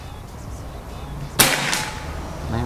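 A single sharp crack from a PCP air rifle shot stands out against quiet outdoor background noise, followed by a brief faint echo, with low hum and distant sounds around it.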